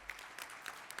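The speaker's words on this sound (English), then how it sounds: "So please give our staff a round of applause as well." A brief burst of audience applause for staff at a Unifor Prairie Regional Council meeting, fairly faint scattered clapping lasting about a second with a few sharper individual claps standing out.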